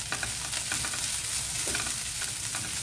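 Finely chopped carrots stirred in a hot pan while cooking quinoa with vegetables, giving a steady soft sizzle of frying with scraping stir strokes, close and even throughout with no talk.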